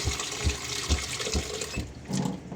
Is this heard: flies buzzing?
no